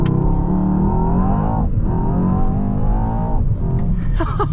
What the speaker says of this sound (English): Floor the brake, floor the gas, and it's going to measure my 0 to 60 time with a launch control